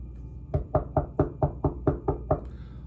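Eight evenly spaced knocks on a door, firm and close, in a steady rhythm with no talk, heard in a Real Housewives of Beverly Hills scene.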